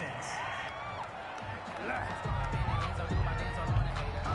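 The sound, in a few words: stadium crowd reacting to a penalty call in a football video game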